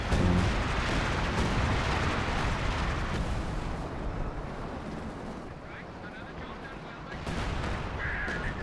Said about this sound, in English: The artillery is still on though, so it's kinda dangerous.